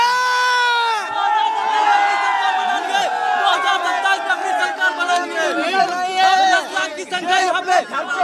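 A large crowd at a political rally marking Kanshi Ram's death anniversary cheers and chatters continuously, a dense wash of overlapping voices and shouts close by.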